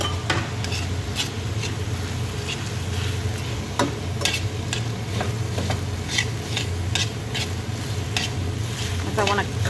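Chow mein mince sizzles on high heat in a pan with sauce while being stirred, a steady crackling fry broken by frequent scraping stirs.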